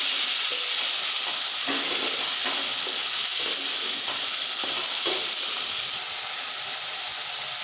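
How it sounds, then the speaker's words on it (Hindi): Browned onions, tomatoes and green chilies sizzle steadily in a hot pan, a loud, even hiss with occasional stirring scrapes, close up and without talk. "अब ये प्याज ब्राउन हो गया, हम इनमें टमाटर डाल लेंगे और हरी मिर्च डाल लेंगे"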